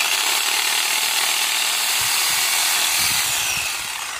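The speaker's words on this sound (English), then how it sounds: "We're gonna go trim the PVC" PVC pipe for a solid set irrigation setup is cut to length, producing a steady, loud, close rasping hiss that eases slightly at the end, with no voices.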